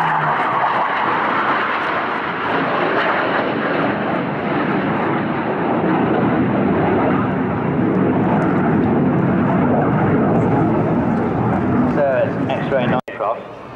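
A Hawker Hunter Mk58a jet, an ex-Swiss Air Force aircraft, performing at the Bournemouth Air Festival: a loud, sustained roaring jet engine blare with a steady howl throughout, with an announcer's voice over it.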